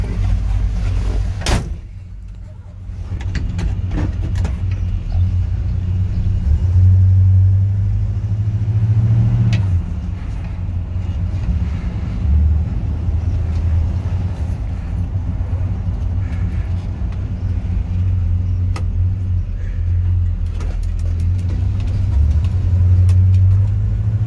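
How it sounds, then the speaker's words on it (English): A 1971 Chevy 4x4 truck drives along a road, its engine a steady low rumble with some rattles and bumps, near and continuous for the whole stretch. "Truck runs and drives, goes down the road perfectly."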